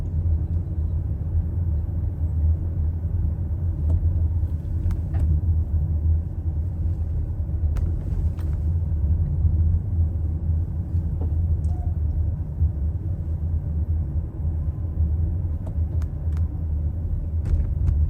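A New York City Department of Sanitation garbage truck passing along Broadway, heard as a heavy, steady low engine rumble with traffic noise and faint high hisses or clicks.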